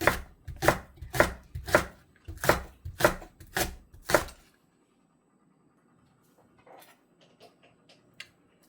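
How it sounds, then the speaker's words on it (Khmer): A knife chopping leek on a cutting board, about eight sharp, evenly spaced thuds in quick rhythm, close and clear, followed by quiet faint handling noises. "ដើមខ្ទឹមធំយើងកាត់វាជាពីរចឹងទៅហើយហាន់វា"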